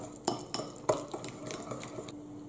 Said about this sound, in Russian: И все это хорошо перемешиваем.